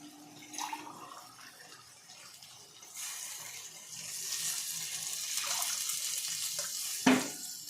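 One and a half glasses of water poured into a pot of mushroom biryani rice, a soft splashing pour that builds and rushes for several seconds, faint and close, ending in a small clunk.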